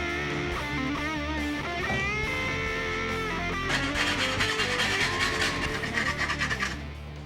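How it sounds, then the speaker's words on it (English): Keyhole files rasping around the corners and edges of a panel, a steady scraping that grows into rhythmic, louder strokes in the second half, close up and alone. "Now for around the corners, I'm going to use a slightly finer set of files, a set of keyhole files."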